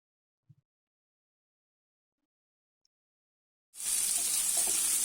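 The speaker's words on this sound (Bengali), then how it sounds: "তারপরে আমি ভেজে নেব কেটে রাখা আলু।" Small cut potato pieces hit hot oil in a wok, bursting into a steady, loud sizzle that starts abruptly after near silence and a couple of faint knocks, then holds strong and close.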